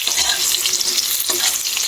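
Paneer pieces fry in a pan with a loud, continuous sizzle and hiss, close up, while rice cooks nearby.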